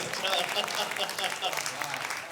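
Audience applauding at a comic Urdu poetry recital (mushaira) at a literary festival, a steady wash of clapping from a crowd heard at a moderate distance, fairly soft and continuous.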